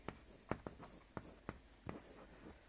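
Chalk tapping and scraping on a board during a live maths lesson on logarithms, a series of sharp, irregular clicks and short strokes at moderate volume in a quiet room with no talking.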